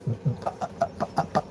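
Chickens clucking in short, evenly spaced bursts, about eight quick clucks close by with no talking over them.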